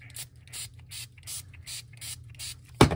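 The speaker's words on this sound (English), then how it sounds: "And then we're gonna spray your hair." Hair detangler spray misted onto a doll's hair, a quick series of about seven short hissing pumps in steady rhythm, close and fairly soft, ending with a sharp louder click.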